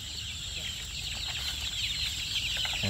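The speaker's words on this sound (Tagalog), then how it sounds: "Yan mga sisiw natin, healthy sila." Newly hatched chicks peep in a continuous high chorus of overlapping cheeps, close and fairly loud, with a faint hum beneath.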